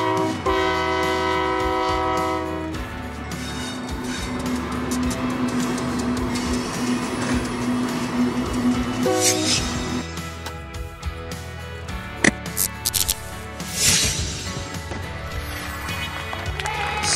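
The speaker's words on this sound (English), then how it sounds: "Oil trains are large capacity vehicles used to transport oil or liquefied gases all over" An oil train's horn blares in long sustained chords, then heavy rail cars rumble and clatter past steadily, with occasional clanks and squeals.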